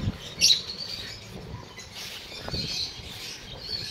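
Lovebirds chirping in a cage, a few short, bright calls including one sharper chirp near the start, over a soft rustling background with no talk.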